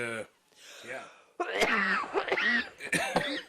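A person coughs hard and clears their throat after inhaling cannabis smoke from a pine-warp strain: a brief vocal sound, then a close run of harsh, raspy coughs in quick bursts.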